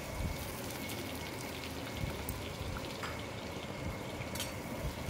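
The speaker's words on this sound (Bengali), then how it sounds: "আলুটা ভেজে নেব।" Potatoes frying in oil in a wok (kadai) on a gas stove, a continuous faint hissing crackle with scattered pops, no voices.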